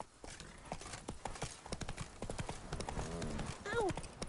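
Horse hooves clip-clop in a steady trotting rhythm while riding in The Witcher 3 Wild Hunt, Blood and Wine expansion, close and clear, with a brief whinny near the end and a voice speaking over it.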